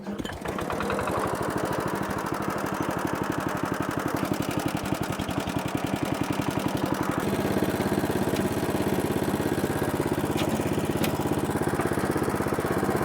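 A rotary hoe's small engine runs steadily and loudly throughout, with a fast chugging idle that shifts to a rougher, throatier tone partway through, close up and with no talking.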